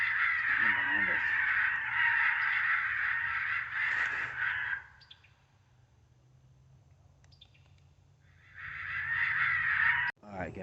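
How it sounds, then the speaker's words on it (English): Several crows caw loudly in a dense run of calls while hunters wait with air rifles during Indiana crow season, then fall quiet before another close burst of cawing returns. "we actually had some crows calling back to us"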